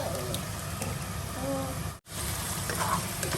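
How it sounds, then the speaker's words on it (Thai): Eggs and shrimp sizzle and crackle as they stir-fry in a hot pan, a steady quiet frying hiss with a brief break partway through. "นี่ค่ะผัดไข่กับกุ้งก่อนจ้ะ"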